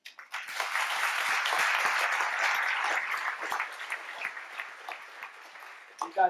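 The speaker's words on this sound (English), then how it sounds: "round of applause" Lecture-hall audience at a CRISPR genetic engineering event gives a moderate round of applause, steady clapping that starts abruptly, holds, then tapers as a voice comes in at the end.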